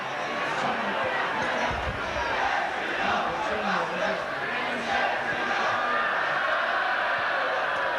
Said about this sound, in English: The crowd really behind the wire now.